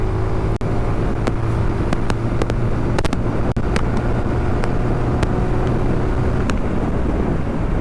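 A TVS Apache RTR 180 motorcycle engine holds a loud, steady drone as it climbs toward high RPM, with a few sharp clicks and ticks breaking through the continuous noise.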